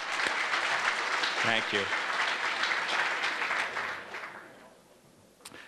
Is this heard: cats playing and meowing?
no